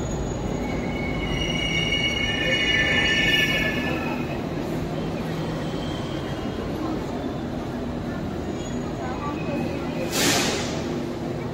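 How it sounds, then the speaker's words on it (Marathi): Pune Metro train pulling into an underground station: a rolling rumble fills the platform as brakes squeal in high, drawn-out tones early on, followed by a brief hiss of air near the end, with faint voices in the background. "ही मेट्रोची ट्रेन आपण आलेली पाहत आहात"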